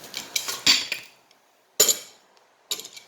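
Metal clinks and taps come from tightening the locking nut on a Graco 390 paint sprayer pump during a repack: three short, sharp bursts separated by pauses, close and fairly quiet.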